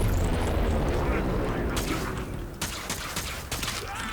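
Attica crossbow shots in Warframe striking a Heavy Gunner Eximus enemy, a run of sharp, bright impacts in the second half over a steady, rumbling game backdrop.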